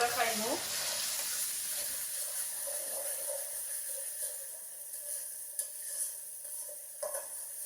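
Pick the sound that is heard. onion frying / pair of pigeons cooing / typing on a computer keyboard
onion frying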